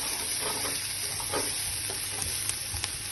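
Onions and garlic fry in a pan with a steady, even sizzle, punctuated by a few soft stirring clicks. It is close and moderately quiet, with no voices.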